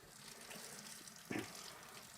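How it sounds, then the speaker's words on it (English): Tap water runs into a sink to rinse hot pot ingredients. A soft, steady stream plays throughout, with a brief louder splash partway through. Close but quiet, with no talking. "So I'll just give those a quick rinse to get off any dirt or anything like that."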